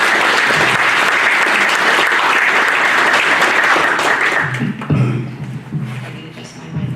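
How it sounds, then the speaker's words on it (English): An audience at a city council candidate forum applauds loudly and steadily, then the clapping fades out and a voice starts speaking with a few thumps of handling noise. "So I'd really appreciate a round of applause for them"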